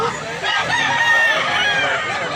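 Roosters crow one after another at a fowl market in Mantalungon, Barili, Cebu, the loud calls filling the whole stretch with clucking and crowd noise around them.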